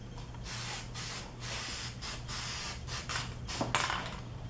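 Self-etch primer sprayed from an aerosol can onto a bare car body panel during filler repair, heard as a series of short, close hissing bursts with brief pauses between them.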